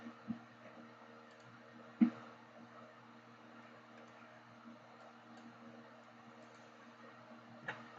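A computer mouse clicks on a desk in a quiet room, giving three short, faint, isolated clicks spread apart over a soft background hum.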